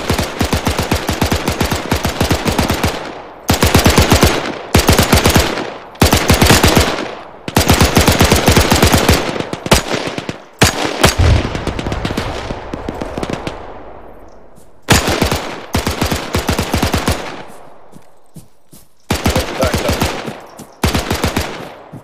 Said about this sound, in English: Still up though, he's still shooting.